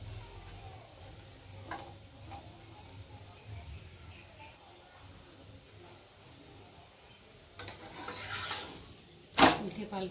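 A semolina paratha fries in oil in a pan, a low steady sizzle with soft scraping as it is turned, ending in a sharp clatter of a utensil.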